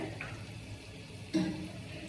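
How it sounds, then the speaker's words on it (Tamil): Water is poured into a masala egg curry being cooked for chapati, a soft, steady trickle that swells into a brief, louder splash near the end. "இப்போ கொஞ்சம் தண்ணி ஊற்றிக்கிறீங்க"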